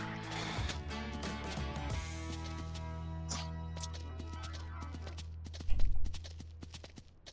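Steady hoof clip-clop from a horse being ridden in the farming game Ranch Simulator, a continuous walking rhythm over a low droning background, with a louder thump of hooves near the end.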